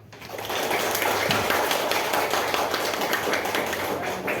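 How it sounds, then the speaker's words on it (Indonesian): Classroom of students applauding their classmates, a dense steady patter of many hands clapping together, sustained and fairly close without talk. "Semuanya sok kasih tepuk tangan buat teman-teman kalian yang udah berani ke depan ya"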